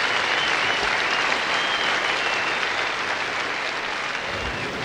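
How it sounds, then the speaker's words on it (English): Sustained crowd applause at a 1985 Sri Lanka versus West Indies cricket match as a batsman walks off after being run out, a broad, steady roar of clapping from the stands. "Big round of applause as he parts here."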